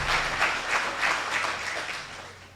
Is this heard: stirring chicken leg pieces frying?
no